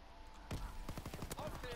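A few rapid gunshots crack at close range in Call of Duty WW2, a short burst of sharp reports following one louder shot, over quiet game ambience.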